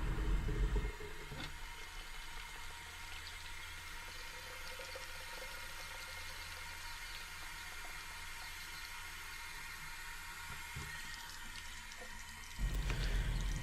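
Warm water runs steadily from a tap into a foam cannon canister for car washing, a continuous close rushing fill that starts abruptly after a brief louder burst and ends with another.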